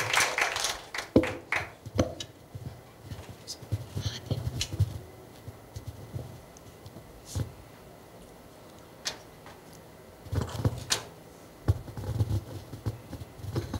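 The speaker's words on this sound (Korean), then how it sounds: "큰 박수로 작가님 모시겠습니다." An audience at a talk welcomes a speaker with scattered, fairly quiet clapping that comes in patchy bursts rather than a full sustained ovation, with brief lulls between.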